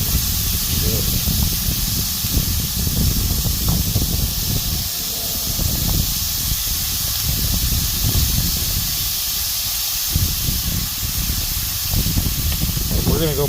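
Food sizzles loudly and steadily on a hot griddle, a thick close hiss of frying pork with shifting crackle and spatter throughout, holding at one level for the whole stretch with no talking.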